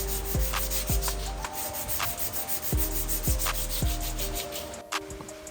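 Steady rhythmic sanding of body filler on a motorcycle fuel tank, a rasping back-and-forth rub repeated in quick even strokes, close and fairly loud.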